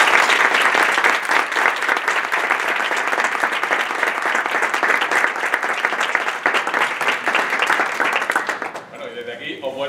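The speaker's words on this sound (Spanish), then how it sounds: "Yo creo que se merece un aplauso" An audience at a physics faculty book presentation breaks into sustained, loud applause that fills nearly the whole stretch, many hands clapping densely before it thins out near the end.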